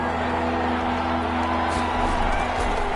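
Steady stadium crowd roar from an American football video game, Rams at Buccaneers in a wildcard playoff, a continuous broad wash of home-crowd noise with faint whoops, constant and fairly loud without breaks.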